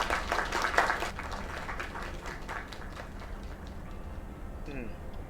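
An audience claps and cheers after a live performance, a dense burst of applause that swells early and then thins into scattered clapping with voices underneath.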